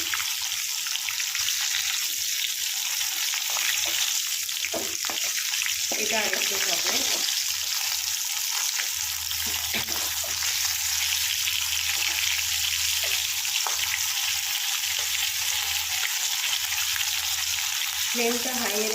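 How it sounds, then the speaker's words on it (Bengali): Crab pieces deep frying in hot oil for a Bengali crab kosha, a steady dense sizzle and crackle throughout, with a low bubbling rumble growing stronger in the second half; no talking. "দেখতেই পাচ্ছ ডিপ ফ্রাই করে নিচ্ছি"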